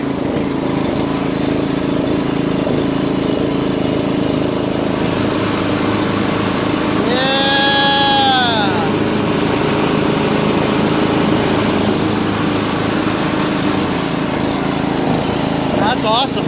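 A Craftsman LT1500 lawn tractor repowered with a 12.5 HP Briggs engine runs with the PTO engaged, a loud continuous close-up engine drone, with a brief tonal squeal midway and a voice speaking over it.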